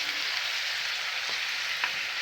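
Fresh tomato paste hits frying chicken pieces for Mughlai chicken, giving a steady close sizzle with a couple of light stirring clicks.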